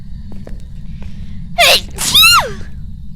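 A loud, close sneeze with a sharp inhaled buildup followed by the explosive burst, heard over a low steady background hum.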